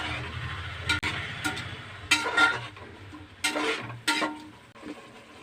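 A spoon stirs capsicum coconut rice in a pan, giving a few separate scraping and clattering strokes at irregular intervals over a low background hum.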